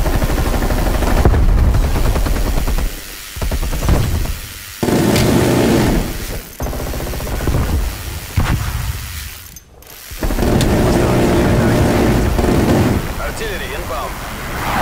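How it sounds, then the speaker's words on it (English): A Death Machine minigun fires in Call of Duty Cold War multiplayer. Long, loud, dense mechanical bursts of rapid fire are broken by several short gaps, with game voice callouts and battle noise mixed in. "Assaulting with death machine."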